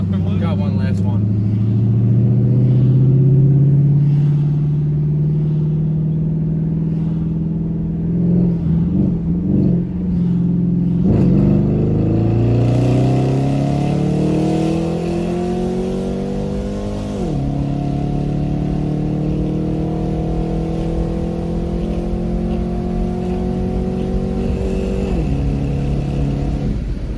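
Dodge SRT8 Challenger running a Diablo 93 tune accelerates hard from close inside the cabin, its V8 climbing through several gears with rising pitch and shift drops, loud and sustained, with some voices underneath.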